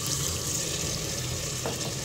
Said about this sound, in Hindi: अब मैं इसके अंदर पानी ऐड कर दूंगी एक प्याली